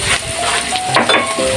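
Sliced onion sizzles in a hot frying pan while sarsiadong tuyo is cooked, a close crackling hiss with light clinks of a utensil against the pan.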